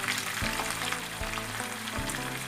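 Slit green chillies fry with mustard paste for a Bengali bhangan fish curry, making a soft continuous sizzle with occasional low thumps and no talking.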